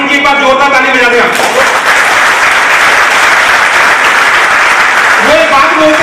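An audience at a motivational training session claps loudly and continuously, with a dense, sustained burst of applause and a voice heard briefly at the start and end.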